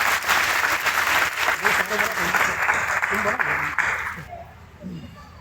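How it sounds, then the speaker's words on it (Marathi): Audience applause at a fashion show featuring about sixty young women, steady and dense clapping that fades near the end, with talk over it. "त्यांच्यासाठी खरंच जोरदार टाळ्या वाजवायच्या."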